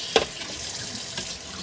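Running water splashes in a kitchen sink as sea moss is rinsed of sand and debris, with a sharp splash at the start and a steady trickle after.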